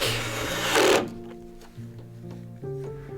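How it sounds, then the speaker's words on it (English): A power driver sets the last screws into a wooden deck outdoors beside a Swedish lake. A loud high whine runs for about a second and cuts off, then shorter motor bursts follow with pauses between them. "my dad is screwing in the last screws on the actual deck"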